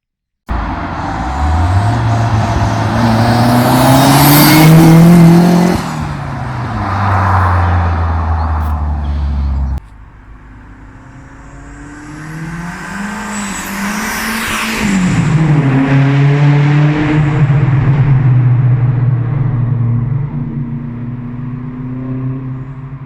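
A tuned turbocharged car rated at 235 horsepower roars loudly through hard acceleration, its revs rising and falling twice. Tire squeal and a brief break in the sound come between the two runs, with the engine heard up close.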